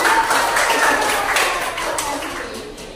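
A group claps in response to a call for applause after a classroom-style game, producing a dense, loud patter of hands that fades gradually over a few seconds.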